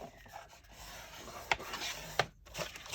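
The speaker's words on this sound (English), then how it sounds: "So of course you can burnish those creases if you want to." Soft rubbing and scraping as folded paper creases are burnished flat for a notebook spine, quiet close strokes with two sharper scrapes near the middle and end.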